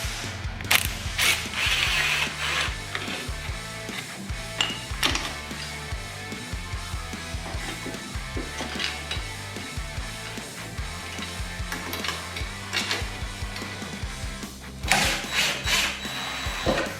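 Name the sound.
ratchet tightening bolts on a motorcycle crash cage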